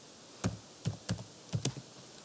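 A few separate keystrokes on a computer keyboard as a loopback address is typed into a command prompt, about five crisp taps in irregular rhythm, close and fairly quiet with no talk.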